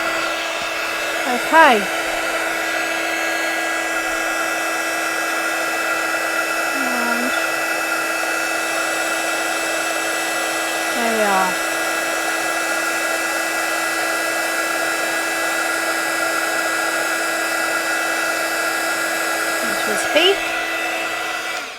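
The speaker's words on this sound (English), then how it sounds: "I'm going to heat up my heat gun first of all" A heat gun blows with a constant whining hum for over twenty seconds, close and steady, while embossing glaze is heated; a voice speaks briefly and light handling noises appear.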